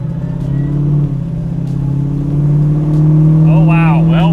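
A 1967 Camaro resto mod's engine rumbles loudly from close by, its deep steady drone swelling slightly as the car pulls away. Voices speak over the engine.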